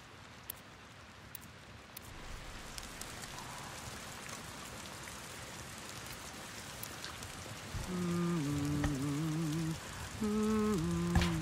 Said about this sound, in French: Putain, il pleut sa mère.